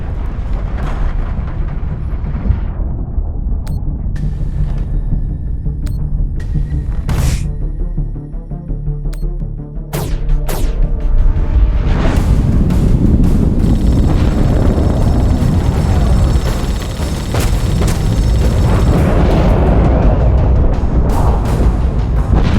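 Torpedo strikes and heavy blasts boom during a space battle in The Expanse Telltale series game, loud rumbling explosions with sharp impacts over a dense, continuous roar of engines and combat noise.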